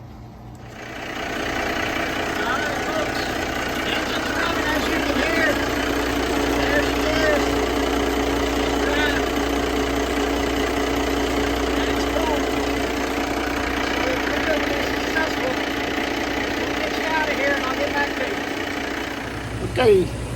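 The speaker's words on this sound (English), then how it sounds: "I'm gonna fire up the engine" A boat engine fired up after maintenance idles steadily and fairly loud for the whole stretch, with a fine rhythmic knock running through the even drone.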